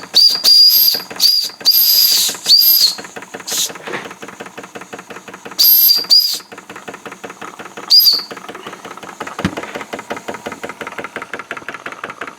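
The whistle on a Wilesco D-18 mini live-steam engine power plant toots in several loud, shrill bursts of varying length over the steady chuffing knock of the running engine, which continues alone near the end.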